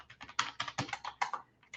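Rapid typing on a computer keyboard, a quick irregular patter of close, crisp keystrokes in short bursts with brief pauses, no voices.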